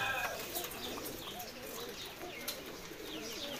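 Pigeons coo on a rooftop where a flock of racing birds is kept, soft repeated throaty calls mixed with faint chirps over a low background murmur.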